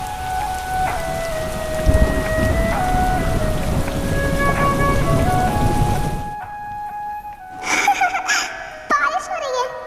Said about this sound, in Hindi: बारिश हो रही है, फाइनली बारिश हो रही है।